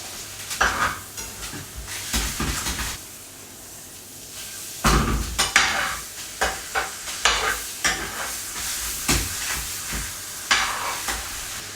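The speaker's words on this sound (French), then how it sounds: "On va commencer par mettre de la margarine au fond de la poêle et ensuite on y placera le fameux haché." Vegan mince frying in margarine in a pan, a steady sizzle broken by frequent scrapes and knocks of a utensil against the pan, close and moderately loud, with a brief quieter gap early on.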